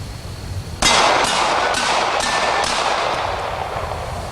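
A Clark Custom Colt 1911 handgun fires a rapid string of about six sharp shots, roughly half a second apart, loud and close at an outdoor range, with echoes trailing off.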